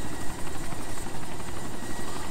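A Mi helicopter's rotor thumps rapidly and steadily beneath a dense wash of engine noise in DayZ Epoch Chernarus, loud and constant.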